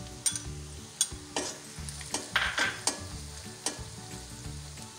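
Onions fry in a pan for spicy bhindi masala while spices are added, a steady sizzle broken by several sharp stirring clatters and scrapes at close range, with no talking.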